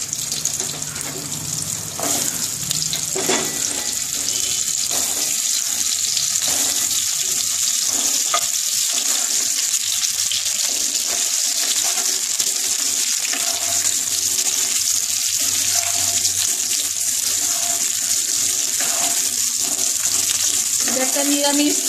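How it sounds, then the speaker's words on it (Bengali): Pointed gourd (potol) pieces fry in hot oil in a wok, giving a steady, bright sizzle that runs the whole time, with occasional clinks and stirring sounds nearby. "কড়াইয়ের মধ্যে পটলটা আমি ভেজে তুলে রাখবো"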